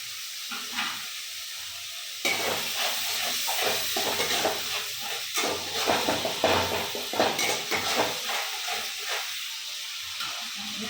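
Onions frying in a pan for paneer curry, with a continuous close sizzle under repeated clinks and scrapes of a spatula stirring against the metal pan.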